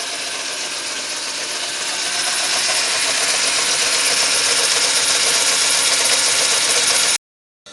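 A Smart & Brown lathe motor runs with a steady, even hum that swells slightly and then cuts off abruptly near the end.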